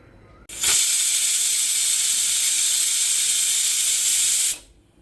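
A pressure cooker vents steam from its whistle while rice and lentil khichdi cooks, a loud continuous hiss that starts abruptly, holds steady for about four seconds, then fades out, close by and without talk.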